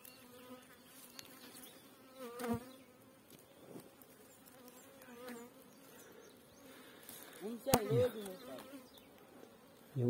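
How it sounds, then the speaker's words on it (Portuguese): Bees buzzing around at close range, a steady whine with individual insects swooping loudly past, while a few faint voices are heard under the buzzing. "A abelha tá braba aqui."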